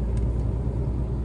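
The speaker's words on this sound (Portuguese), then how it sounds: "Bora aí acelerar o carro." A car driving around Cuiabá gives a low, steady engine rumble from inside the cabin. The drone holds even throughout, with no voices.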